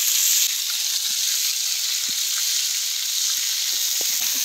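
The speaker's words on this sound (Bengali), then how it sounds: "আর মা এখন কড়াইতে মাছ ভাজছে।" Fish sizzles steadily in oil in a wok (kadai) in a home kitchen, a continuous close hiss with faint scattered clinks and stirring taps, no talking.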